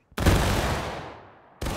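Massed musket volley in the Civil War game War of Rights, a sudden loud crack of many shots merging into one blast that fades over a second, then a second burst begins.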